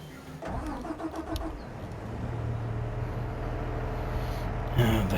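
A tractor engine in Farming Simulator 22 cranks and catches, then settles into a steady, low idling rumble, with a brief clatter near the end.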